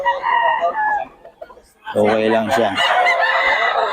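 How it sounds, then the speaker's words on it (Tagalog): Chicken crowing up close at a seller's poultry spot, one long loud cock-a-doodle-doo with clucking around it while someone talks over it. "Gulo nitong manok."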